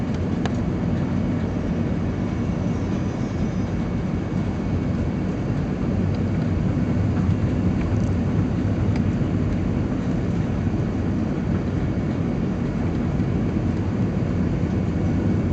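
Airliner approaching and landing at Ho Chi Minh City airport in gusty wind, a steady loud broadband cabin roar of engines and airflow holding level throughout with no voices.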